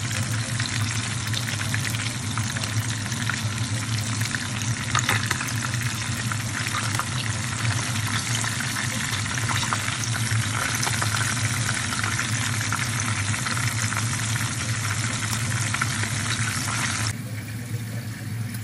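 Crabs fry steadily in hot oil with a dense, continuous sizzle and crackle heard close up, holding at an even level throughout.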